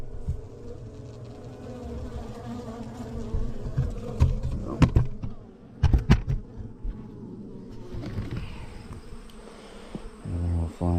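Honeybees fly around the entrance of a log hive, a close, steady buzzing swarm with individual bees zipping past loudly at moments.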